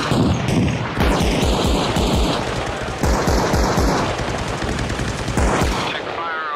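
Heavy gunfire in the ARMA Reforger game, with rapid bursts and single shots cracking repeatedly and loudly throughout, dense and close, with a few brief voices mixed in.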